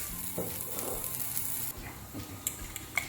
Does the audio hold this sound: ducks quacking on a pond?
no